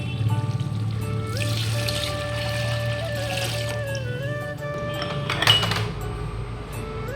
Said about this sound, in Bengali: তখন আমি এর মধ্যে জল দিয়ে দেবো